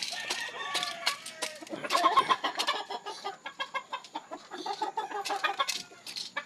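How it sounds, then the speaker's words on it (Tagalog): Several chickens being fed clucking and squawking nearby, with a rooster crowing among them, busy and continuous. "pakita ko mga manok, papakain ako"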